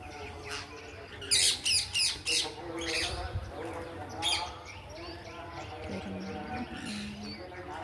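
Birds call around a rooftop garden, a burst of sharp squawks and chirps in the middle, with softer twittering before and after over a steady background.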